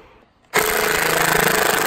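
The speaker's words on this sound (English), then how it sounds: "I like how you guys keep using my like 20-year-old Makita I've been using forever." A roughly 20-year-old Makita power tool bursts on abruptly after a quiet moment and runs loud and steady while removing a stuck part on a 2021 Peterbilt 389 truck.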